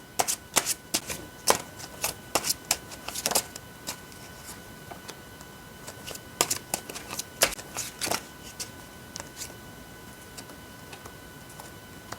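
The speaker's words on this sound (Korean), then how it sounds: "카드 뽑아보도록 할게요" Tarot cards shuffled and drawn, a dense run of crisp, sharp card snaps and flicks in irregular bursts, close and fairly quiet with no talking.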